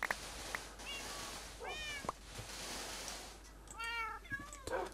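A cat in Minecraft meows several times, short rising and falling calls scattered across the moment with a couple louder near the end, over a soft game ambience.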